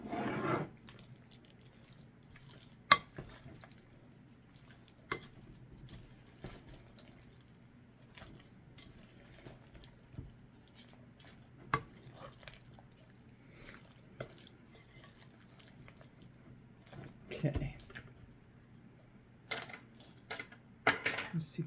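Potato salad with a little cheese being mixed in a bowl with a fork, quiet scraping and light clinks at irregular intervals, with a few louder knocks against the bowl.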